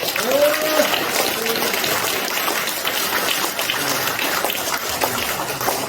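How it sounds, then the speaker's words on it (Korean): An audience claps at a commemorative founding ceremony, and the clapping runs as a dense, continuous patter across the whole stretch, with faint voices mixed in. "큰 박수 부탁드리겠습니다"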